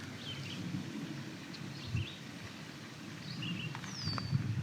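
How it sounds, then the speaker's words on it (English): Red-winged blackbird and red-eyed vireo call faintly from trees along a rural backroad by a culvert, with scattered thin chirps and whistles over a low outdoor rumble. "can hear red-winged blackbird, you can hear red-eyed vireo"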